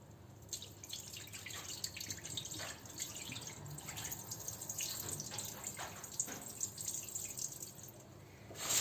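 Rice for a pilaf with vermicelli is stirred and washed by hand in a bowl with plenty of water, producing continuous soft sloshing and dripping throughout, fairly quiet and without talk.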